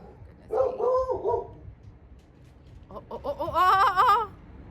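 A dog barks close and loud in two separate bursts, a short one first and then a longer run of yelping barks after a brief pause.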